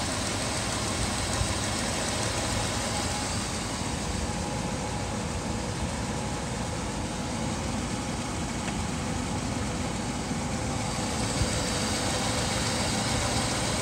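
A Mercedes W126 380 SE with K-Jetronic fuel injection idles steadily after a restart, a smooth, even engine hum running alone and unchanged for the whole stretch.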